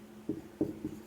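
Chalk or marker scratching on a classroom board in a science lesson, three short distinct strokes close by, with no talk over them.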